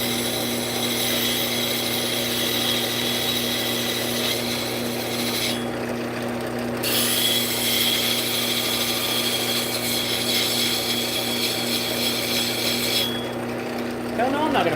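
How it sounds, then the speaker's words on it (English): A wood turner sharpens a skew chisel on a powered grinder or sharpening wheel, a continuous abrasive grinding rasp over a steady motor hum, broken by short pauses as the edge is lifted away. "Put a fresh edge on this skew."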